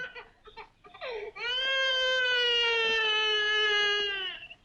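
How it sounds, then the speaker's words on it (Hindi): A baby cries loudly and steadily in a sustained wail after a few short whimpers, the sound close and filling most of the clip inside a van. "बच्चे के रोने की आवाज।"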